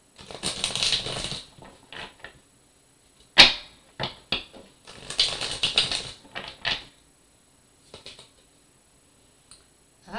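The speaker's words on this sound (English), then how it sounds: "This is not an easy deck to shuffle" A deck of tarot cards being shuffled by hand, stiff cards giving bursts of riffling and flapping snaps, with a sharp slap and several short clacks between the riffles, close and fairly loud, ending in a few sparse taps.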